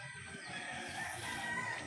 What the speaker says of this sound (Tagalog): silipin natin mga manok